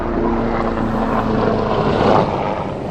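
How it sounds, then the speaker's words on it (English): Helicopter flying overhead outdoors, a loud, continuous rumbling rotor and engine wash that swells slightly toward the end, with no talk during it. "choppers are after me"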